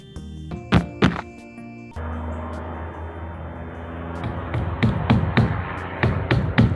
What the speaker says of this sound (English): I'm gonna get started just with the mundane work of nailing things down